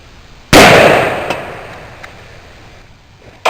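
A 12 gauge shotgun fires a cut shell at a can 50 yards away outdoors: one loud, sharp blast that decays slowly into the open air, followed by faint distant ticks and a second sharp report at the end.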